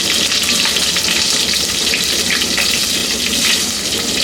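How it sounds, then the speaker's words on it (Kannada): Long-slit green chillies, chopped onion and crushed ginger fry loudly in hot oil for a black-eyed bean curry, a dense, steady close-up crackle and hiss with faint stirring. "ಇದನ್ನೆಲ್ಲ ಹಾಕ್ಕೊಂಡು ಫ್ರೈ ಮಾಡ್ಕೋಬೇಕು."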